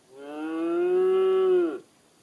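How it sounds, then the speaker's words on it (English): A recorded cow moo plays from a Google Nest Hub (2nd Gen) smart display as a nature sound: one loud, sustained, harmonic call lasting over a second, then cutting off into silence. "This is a cow."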